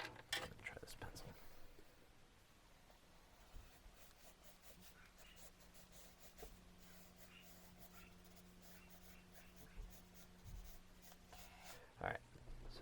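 A pencil scratches and strokes across paper while sketching twisting rope and spiral forms, with quiet intermittent scribbles and rubbing, some sharper strokes near the start and end, close and soft with no talk.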